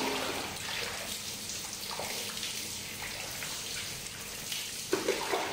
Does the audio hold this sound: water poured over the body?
yes